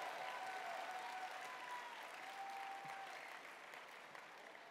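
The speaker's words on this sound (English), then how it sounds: "Give them a round of applause." Convention crowd in Sacramento claps in sustained, dense applause that fades slightly toward the end, heard from a distance with no voices over it.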